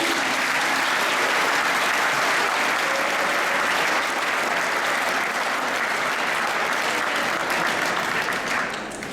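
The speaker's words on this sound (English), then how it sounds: "Let's have one last round of applause for him" A full audience claps loudly and continuously to honour a recognised student, Donovan Brown, with broad, steady applause that fades slightly at the very end.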